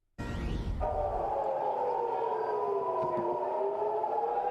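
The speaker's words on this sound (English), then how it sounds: "Warning sirens, and you can hear explosions in the background." Steady wailing warning sirens sound continuously, the tone holding and slowly dipping, loud and sustained with a low rumble of explosions underneath at the start.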